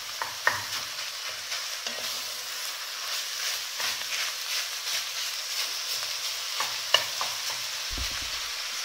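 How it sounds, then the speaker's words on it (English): Ground beef browns in a frying pan over a gas flame, giving a steady close sizzle with scattered scraping stirs and a louder thump near the end, with no voices. "I'm trying to brown the beef,"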